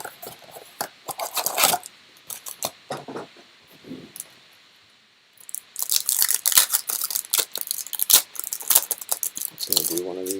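Baseball card packs and boxes are torn and handled up close, with bursts of crinkling wrapper, ripping and shuffling cardboard separated by a quiet pause, while a voice talks in between.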